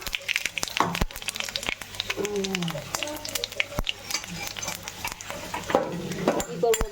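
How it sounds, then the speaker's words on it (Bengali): Panch phoron and bay leaves dropped into hot oil in a kadai, crackling and sizzling with scattered sharp pops and utensil clinks, close and moderately loud. "তেলে এখন আমি পাঁচফোড়ন তেজপাতা ফোড়ন দিয়ে দিলাম"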